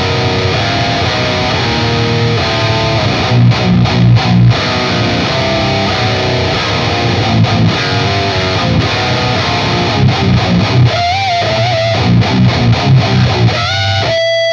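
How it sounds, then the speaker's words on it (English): A loud, continuous electric guitar plays with a thick, crunchy distortion, chords ringing out densely with occasional picked notes and no voices. "With this guitar, it sounds a little bit crunchy and a little bit loose."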